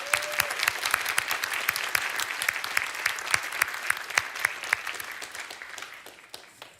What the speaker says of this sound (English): let's give these guys and you guys a big round of applause